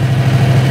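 A Predator 670cc engine with a diaphragm fuel pump runs loud and close with a deep, steady drone and a slight surge in its idle.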